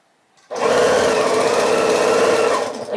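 A sewing machine stitching quilt star blocks starts abruptly and hums in one continuous, even burst of rapid needle strokes, close and loud for over two seconds.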